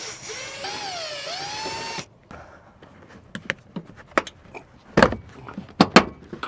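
A power drill whirs and winds up and down as it backs Phillips screws out of a truck floor, followed by scattered clunks and rattles of hardware being handled nearby.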